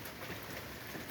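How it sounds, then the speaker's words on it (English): Steady rain falling after a brief lull, a soft continuous hiss of drops with no talk, faint and even throughout the short stretch. "It just picked up harder. It did stop there for a little bit. It's back to rain."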